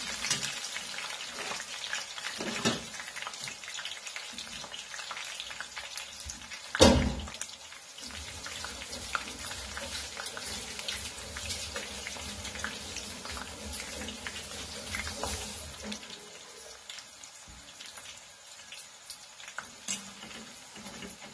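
Papadi frying in oil in a pan on a gas stove at home, giving a steady, soft sizzle and bubbling that runs continuously and fairly quietly, broken by one sharp clink partway through.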